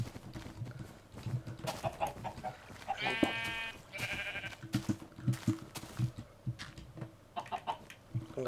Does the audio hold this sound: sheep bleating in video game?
yes